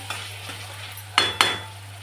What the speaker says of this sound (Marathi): तर खिचडी भात टाकून देते